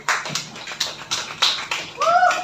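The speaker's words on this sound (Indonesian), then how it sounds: "Beri tepuk tangan untuk Sri." A short burst of clapping, a handful of people at a teacher training session applauding briefly with uneven claps, and a high tonal squeak near the end.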